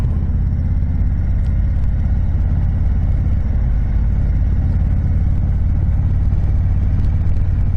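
Throttle applied on a 2021 Indian Chieftain Darkhorse motorcycle gives a loud, deep, continuous engine rumble with steady low pulsing, close up and alone, without speech.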